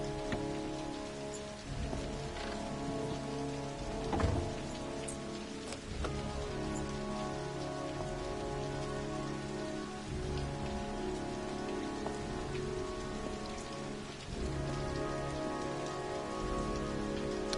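Steady rain pattering on surfaces in the video game Heavy Rain, dense and continuous, with a few low thunder rumbles and sharper impacts standing out through the downpour.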